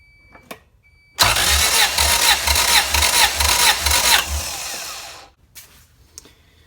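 Honda B17 engine in a CRX cranking over on the starter with the throttle held open during a compression test: about four seconds of loud, close, steady rhythmic churning that then cuts off.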